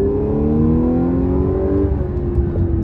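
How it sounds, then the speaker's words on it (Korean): A 2016 Audi S4 3.0 TFSI quattro pulls under load with a steady, close engine and exhaust drone whose pitch climbs and then drops sharply at a gear change, followed by a soft exhaust burble. "이 변속 기어 단수가 이제 넘어갈 때 다락 하면서 이제 약간 그 특유의 배기가 싹 터지는 소리는 들리거든요"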